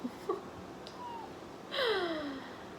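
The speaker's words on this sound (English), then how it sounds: "Crazy cat." A house cat gives several meows, a couple of short faint calls followed by one louder, drawn-out descending meow near the end, in a quiet indoor room with no talking.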